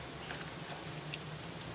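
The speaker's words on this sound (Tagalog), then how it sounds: "Malakas yung ulan." Heavy rain falling steadily outdoors during car maintenance, a dense, even hiss of drops on surfaces, continuous and fairly faint with no talk.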